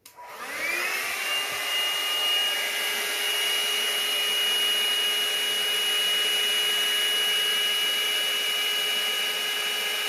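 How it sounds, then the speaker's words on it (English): A small blower starts with a brief rise, then holds a steady, even whirring hum while blowing white paint gently over colours on a placemat and coaster set, close by with no talking. "I've got my blower ready."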